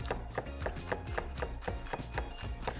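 A knife slices scallions on a cutting board in quick, steady chops, about four crisp thuds per second, close and fairly quiet with no voices.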